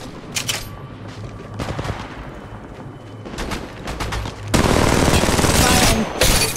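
Weapon fire in the mobile game Apex Legends Mobile, bursts of rapid automatic shots and sustained dense volleys, loud and close, with short pauses between bursts and a brief voice.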